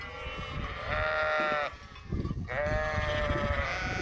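Several sheep bleat repeatedly at close range on a farm as they are herded to be moved, their cries overlapping in a steady chorus with brief pauses between calls.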